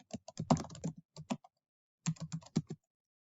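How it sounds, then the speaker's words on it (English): Fingers typing on a computer keyboard, with presses of the tab key: quick clusters of close, crisp keystrokes, a pause of about half a second, then another run of taps. "You can hit the tab key or the arrow key, that works, or you can just click in the box."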